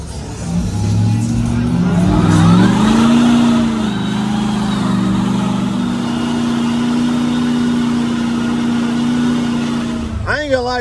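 A truck engine revs hard on a muddy tug pad at a mud event, a loud droning roar that climbs and holds, with people talking and calling out over it.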